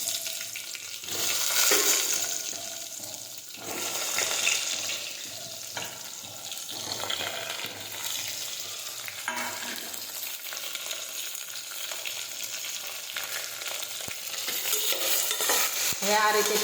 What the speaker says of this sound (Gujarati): આપણે જે રીંગણ ભર્યા છે તે નાખી દઈશું એમાં.